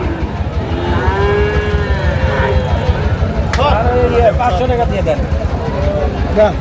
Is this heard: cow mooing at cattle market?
yes